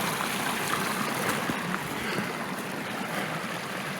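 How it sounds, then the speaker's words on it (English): Mountain canyon stream flowing steadily outdoors, a continuous close rushing and burbling wash of water with no voices, holding an even level throughout. "this canyon's got a pretty good stream of water"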